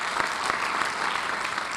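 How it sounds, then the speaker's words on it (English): Steady applause from a group fills the space, an even wash of clapping at moderate loudness with no talking over it. "Give her a round of applause."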